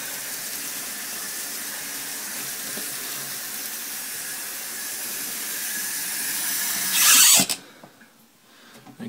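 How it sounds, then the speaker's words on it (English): Tap water is run through homebrew beer lines to flush them, giving a steady, loud hiss of rushing water that holds for about seven seconds before cutting off abruptly, followed by a short clunk and near quiet. "So I just turn on the water."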